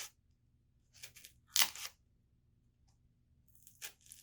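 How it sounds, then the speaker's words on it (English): Several short crunchy, tearing bursts as scissor blades poke into soft foam, with one louder squishy cut in the middle and quiet pauses between. "So I'm poking into the foam with the scissors and it goes right in"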